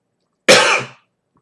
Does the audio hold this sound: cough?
yes